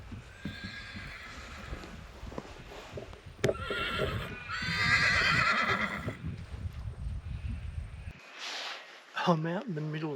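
Wild brumbies in a New South Wales paddock at dawn clop their hooves close by, followed by a loud, rising-and-falling neigh near the end, while a person talks at times.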